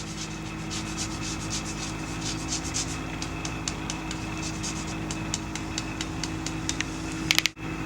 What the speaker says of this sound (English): to our sushi rice we're going to grate in a little citrus zest